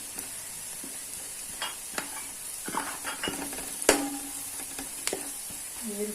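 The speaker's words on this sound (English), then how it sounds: "We will fry this in these onions." Mandi masala powder fries in golden brown onions in a pan, a soft steady sizzle under irregular spoon scrapes and clinks, close but fairly quiet.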